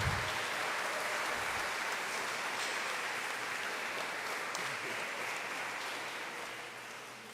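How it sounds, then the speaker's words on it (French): A church congregation applauds the choir after its performance at a Sunday Mass, steady dense clapping from many hands that fills the space and slowly fades toward the end. "je voudrais qu'on applaudisse la chorale pour cette performance"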